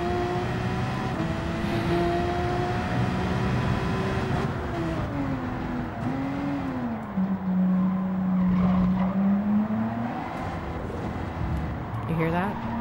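Racing car engines in Gran Turismo at Trial Mountain Circuit whine and shift pitch, with tires squealing through turns, forming a steady loud roar of several cars.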